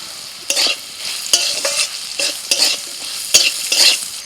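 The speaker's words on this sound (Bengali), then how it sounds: "পটল ভাজা হয়ে গেছে তুলে নিচ্ছি" Sliced pointed gourd (potol) fries in oil, stirred several times, with a steady sizzle broken by scraping stir strokes at a regular pace, close up and with no talking.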